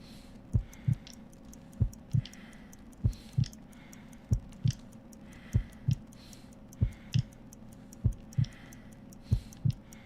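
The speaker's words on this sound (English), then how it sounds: "I need to concentrate and count the heartbeats." A slow, steady heartbeat from a Sherlock Holmes detective video game, with low double thumps repeating roughly every second over a faint ticking, close and isolated with no talking.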